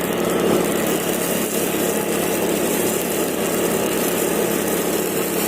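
A four-stroke backpack seed blower, built like a grass cutter engine, runs steadily while sowing rice in a paddy field, a loud continuous near engine drone with no talk.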